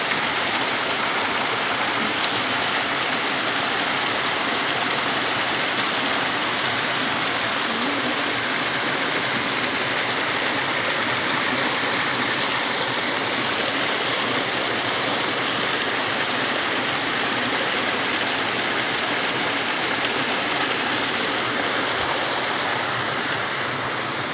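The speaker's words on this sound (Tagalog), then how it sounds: "Ayan ang tubig." Steady rushing water flows continuously throughout, a dense broadband wash like a stream or small waterfall close by, with no voices.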